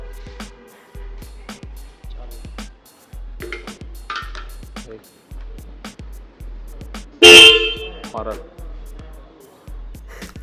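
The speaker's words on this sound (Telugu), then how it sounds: "హారన్" A single loud, short horn blast from a Royal Enfield Interceptor 650 motorcycle cuts through a steady, rhythmic ticking that repeats throughout.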